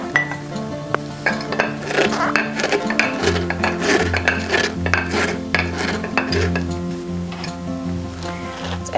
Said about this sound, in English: use the tamper and the pack and press that shredded cabbage down in the jar